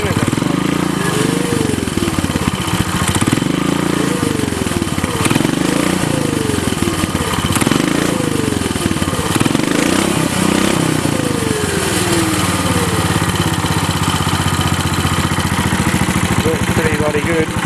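A 15 HP custom buggy engine idles a little fast on a stand with the torque converter in gear, a steady close chugging drone with rhythmic whirring swells that fade into an even hum.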